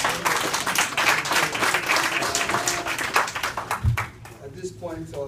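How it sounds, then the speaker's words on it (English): Audience applause at a conference panel discussion, a loud sustained round of clapping from a crowd lasting several seconds, with voices mixed in and the clapping thinning toward the end. "Could we please give another round of applause?"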